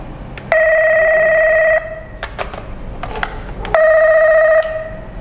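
A KOCOM KIP 611PG intercom handset rings loudly with a steady electronic warbling tone, two bursts of about a second each separated by a short pause and some handling clicks.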